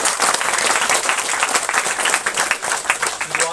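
Loud, dense applause from a congregation at a church inauguration, many hands clapping steadily and close, filling the whole stretch with a brief tonal sound near the end.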